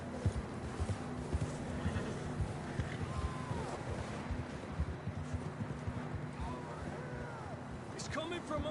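Horse hooves clip-clop in a quick, steady rhythm over wind in the video game Red Dead Redemption 2, with a faint whinny and occasional voices in the background.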